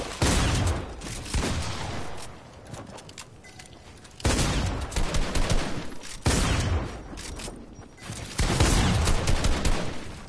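Dense, loud bursts of SCAR rifle fire in a video game, rapid automatic sprays coming in several waves separated by short lulls.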